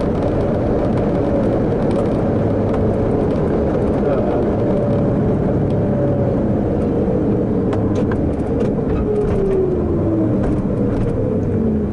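Engine of a 1986 Chevy K10 pickup with a 307 small-block V8 fitted with 601 heads, droning steadily and loud while driving, a continuous low rumble with a slowly shifting pitch and no pauses.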